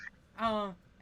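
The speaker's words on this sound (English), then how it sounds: "It's kind of weird to hear the rooster crowing at this time." A rooster crows once at close range, a short, loud, strongly pitched call lasting under half a second, with quiet surroundings before and after.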